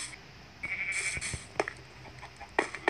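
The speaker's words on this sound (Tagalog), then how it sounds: "Meron akong mga tupa." Sheep bleat in the Minecraft video game, giving several short, clear bleats against a quiet background with soft game noises and no voices.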